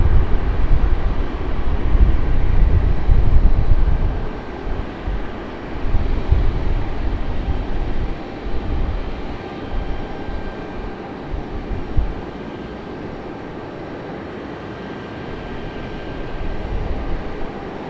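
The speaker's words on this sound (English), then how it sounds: "A220 giving us a little skirt there on touchdown." JetBlue Airbus A220 jet airliner touching down at Raleigh-Durham airport, a loud broad engine roar that peaks early and slowly fades as the aircraft rolls away, steady rumble continuing without voices.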